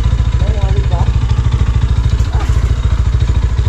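A motorcycle engine runs steadily with a rapid, even low throb, joined by brief voice-like tones partway through; the motorcycle pulls to the side.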